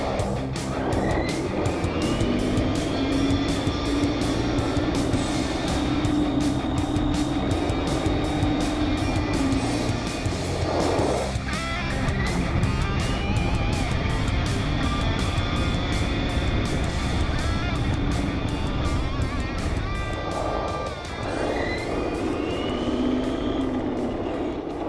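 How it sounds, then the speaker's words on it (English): A Redcat Racing Volcano EPX 1/10 4WD RC monster truck makes several passes, its electric motor whining as the pitch rises and falls with each run, loud and steady throughout. "now I'm gonna put the GoPro on and we're just gonna take a couple passes here"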